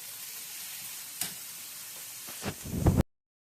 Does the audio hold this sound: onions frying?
yes